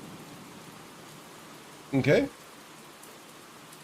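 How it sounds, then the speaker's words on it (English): Soft, steady rain ambience plays quietly in the background during a tabletop role-playing game session, with a brief spoken word cutting in over the hiss. "So you just leave the rain going?"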